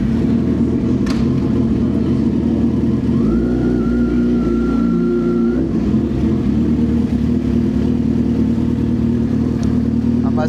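A Suzuki GSX-R1000 sport motorcycle idles with a loud, steady rumble, then rises in one sustained rev for a few seconds before dropping back to idle; close and constant, with no talking.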